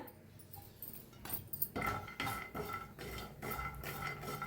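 Peanuts and grated coconut dry-roast together in a pan and are stirred with a utensil, giving rhythmic scraping and rattling strokes that grow busier after the first second; fairly quiet, with no talk.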